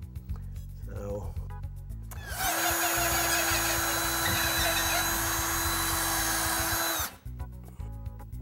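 A power drill fitted with a quarter-inch pilot bit bores through a wall, a loud steady whine lasting about four and a half seconds, with a person talking before and after.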